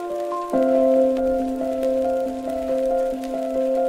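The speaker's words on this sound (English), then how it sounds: "So you can see it kind of creates like a rain sound and also adds in some piano in the background as well." Steady rain hiss from a relaxing-music generator's coffee-shop preset, blended with sustained piano tones that swell in around half a second and hold to the end.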